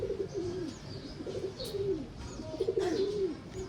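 Racing pigeons cooing in a loft, a steady series of soft rolling coos repeating every second or so over low background noise, moderately close and fairly quiet, with no talk.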